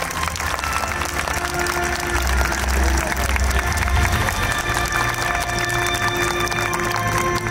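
Steady audience applause at an award ceremony of the Koiya Festival 2022 in Osaka, many hands clapping continuously at an even level, with a faint low hum underneath.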